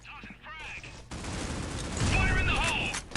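Rapid gunfire from a gunfight in the video game Critical Ops at a tournament match, a loud, dense burst of shots building through the second half, with a commentator's voice heard briefly at the start.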